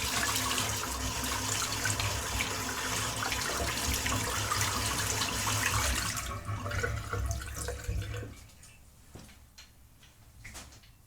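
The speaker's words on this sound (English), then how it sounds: "I'm just going to give it another bit of a rinse." Tap water running loudly over a natural badger hair shaving brush, the steady rush of a faucet lasting about six seconds, then fading as the flow is cut, leaving a few drips and small handling sounds.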